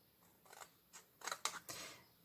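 Scissors make several short, crisp cuts through folded black and white paper for an octagonal mini album. The snips come in irregular bursts, close and fairly quiet, with no talk.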